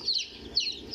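Newly hatched chicks inside an incubator give short, high peeping calls in quick bursts, close and fairly soft, with a faint hum beneath.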